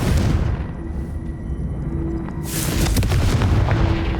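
In the Hogwarts Legacy video game, a Confringo spell goes off as a heavy, booming blast with a second rush of crackling impact noise, loud and continuous throughout and with nobody speaking.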